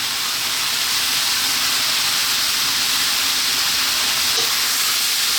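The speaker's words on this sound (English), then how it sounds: "Next up, let's drop in our onion." Onion frying with salt in a pan over high heat, giving a steady, loud, continuous sizzle and hiss that runs unbroken from start to finish with no voices.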